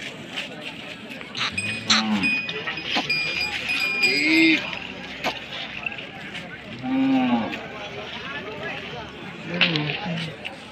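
Cattle low repeatedly at the Friday bull market in Adoni, Kurnool district, in several drawn-out moos from nearby. Crowd murmur, voices and faint clinks fill the background.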